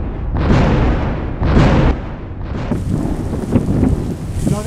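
Loud, rolling thunder crashes close by during a heavy storm, with two big booming peaks followed by sustained rumbling and a steady wash of rain and wind underneath.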